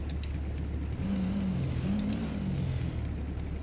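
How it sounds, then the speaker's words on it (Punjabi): A Bullet motorcycle engine in a GTA video game runs steadily, its low rumble rising into a couple of brief revs, loud and close with no talking. "ਲਓ ਬਾਈ ਫਰੈਂਕਲੀ ਜੱਟ ਵੀ ਆਪਣਾ ਬੁਲਟ ਸਟਾਰਟ ਕਰਨ ਲੱਗਾ, ਓਹੋ ਪਟਾਕੇ ਮਾਰਦਾ ਉਹਦਾ ਬੁਲਟ।"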